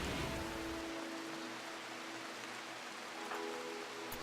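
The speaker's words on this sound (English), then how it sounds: "It is raining, which is nice." Steady foggy rain in the RimWorld video game hisses as a dense, even wash of drops. It continues without a break throughout and is fairly quiet.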